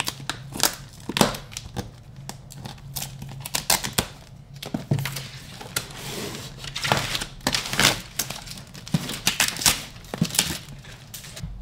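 Packaging being cut and pulled off a parcel delivered by DHL, with a run of close crinkling, crunching and snipping sounds in irregular bursts, no talk.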